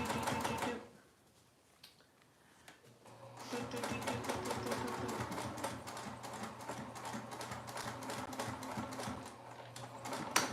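A sewing machine stitches in a long, steady run of rapid mechanical clatter after a brief pause near the start, loud and close with a constant motor hum beneath.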